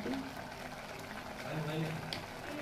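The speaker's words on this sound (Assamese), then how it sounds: "এইখিনি মই 15-20 মিনিটমান সময় ভালকৈ উতল আহিবলৈ দিম" A pot of pork and taro stem curry bubbles and simmers with a steady, dense boiling hiss that runs continuously throughout.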